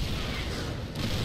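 Siege tanks shelling Protoss cannons in StarCraft II, a continuous dense rumble of heavy artillery booms with a brief dip near the end, loud and sustained without distinct separate blasts.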